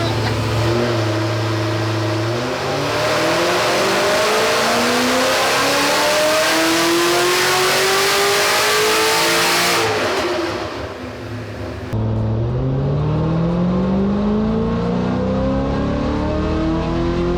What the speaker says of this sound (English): I'm just gonna blast into the rev limiter